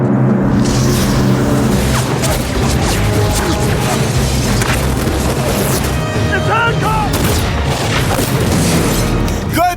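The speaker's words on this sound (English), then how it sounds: "They got some kind of heavy artillery." Heavy artillery fire in a film scene: repeated loud booms and crashing impacts pound continuously through a dense battle mix, with people talking over the barrage.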